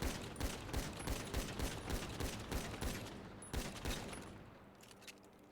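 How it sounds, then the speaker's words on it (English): Rapid gunfire in GTA V on a NoPixel roleplay server, a quick run of sharp repeated shots, steady then thinning, moderately distant and quiet. "Go ahead and shoot with it."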